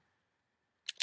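After near silence, a Kodak Brownie Starflash camera's shutter release fires with a quick double mechanical snap, close and sharp.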